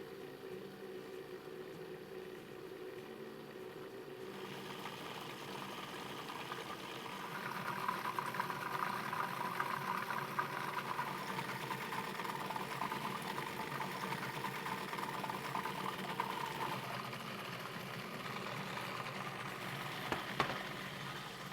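An electric blender whirs steadily while olive oil is slowly poured in to make eggless mayonnaise. The motor hums continuously, its tone shifting partway through as the mixture thickens, and a couple of sharp clicks land near the end.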